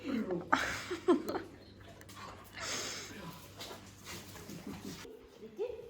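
Two dogs, Leo and Nala, whimper and snuffle excitedly while being reunited, with soft whines and sniffs close by and a person talking to them over the sounds.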